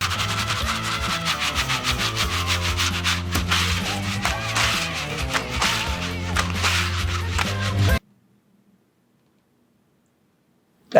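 Chainmail coat rings being vigorously abraded to dull their sharp edges, a continuous rough scraping and jingling rub that runs steadily for about eight seconds and then stops abruptly into silence.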